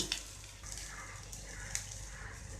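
An egg frying in a pan, a faint, steady sizzle with a few small crackles and light taps, no voices.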